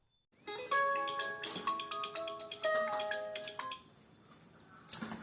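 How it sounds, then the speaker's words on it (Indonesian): A phone ringtone plays a melodic run of bright, steady tones for several seconds at moderate volume, with a short clatter and a brief noisy burst near the end. "Tuh, Mang Jack dengekeun telepon."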